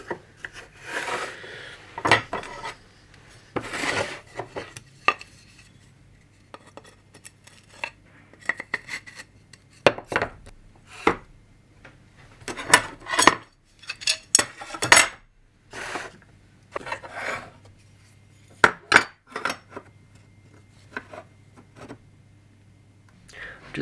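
Medium-density fibreboard (MDF) cam clamp parts knock, scrape and clatter together in irregular bursts as pieces are handled and fitted, with occasional rubbing and tapping, close by.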